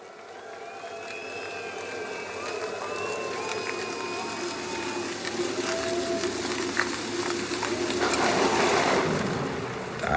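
A rain and thunder sound effect sample plays at a live concert: a steady, dense hiss of rainfall slowly builds in loudness, with low rumbling underneath.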